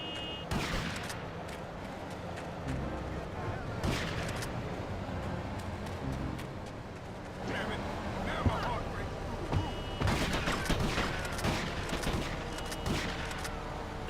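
Gunfire in GTA Liberty City Stories on the PSP comes in repeated bursts of shots, loud and crackling, with a player talking over the in-game action.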